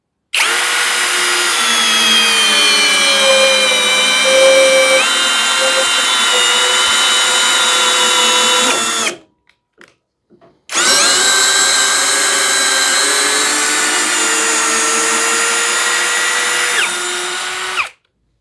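A Hanabi Black cordless screwdriver drives a 220 mm screw in two long, loud, close bursts of steady whining motor with a brief pause between, the pitch sagging slightly under load.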